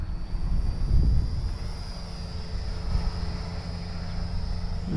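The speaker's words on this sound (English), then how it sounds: "these little planes do fly better with rudder, in my opinion" A small WLToys XK A250 BF-109 cartoon RC plane flies in windy conditions, its electric motor giving a steady high whine over constant wind rumble, with gusts swelling briefly.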